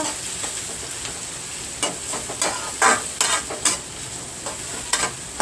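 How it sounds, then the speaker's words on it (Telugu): Onions and green chillies fry in oil with a constant sizzle, broken by a series of sharp scraping and clacking stirs of a spoon against the pan. "ఇవి మనం కొంచెం ఆయిల్లో ఫ్రై అయ్యే వరకు వెయిట్ చేద్దాం"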